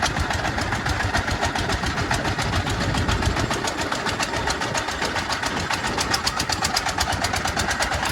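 A tourist boat engine in Marunda harbor, Jakarta, runs steadily and loudly with a fast, even chugging rhythm throughout, with no talking.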